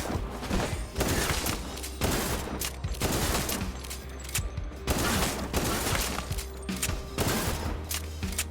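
Sustained, dense gunfire fills a combat scene in the video game Kill the Crows, with overlapping bursts and booming shots in steady rolling waves, loud and continuous throughout with no voices.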